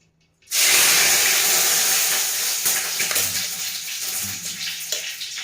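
A bay leaf dropped into hot ghee in a wok sets off a loud, sudden sizzle that starts abruptly and holds as a steady, bright hiss, easing slightly toward the end.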